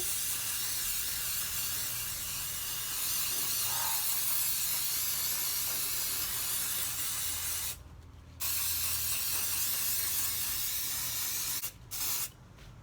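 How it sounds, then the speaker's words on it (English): A spray can of suede renovator hisses in long, steady bursts close by on a suede bag, pausing briefly twice near the end before spraying again. "So we're just going to spray it on lightly."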